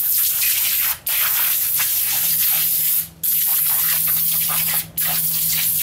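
Loud, close aerosol spraying of engine degreaser onto the back of a Honda B-series transmission hisses almost continuously, broken by three brief pauses between long bursts.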